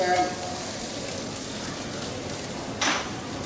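Food sizzles in a pan at a Japanese cooking demonstration during the Cherry Blossom Festival in Vancouver, a steady close crackle with a brief louder burst near the end.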